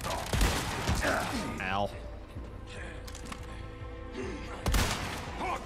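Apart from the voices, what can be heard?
gunfire in video game Resident Evil 4 Remake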